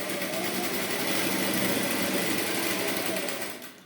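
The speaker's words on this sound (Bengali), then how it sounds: "তাহলে এটা আমি এক ভাজে সেলাই করে নিচ্ছি।" A sewing machine runs in a steady, continuous buzz while stitching a single fold on wrap trousers, holding close and loud throughout before easing off in the final half second.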